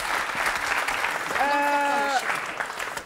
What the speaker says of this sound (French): On peut applaudir très fort Titus et sa maîtresse.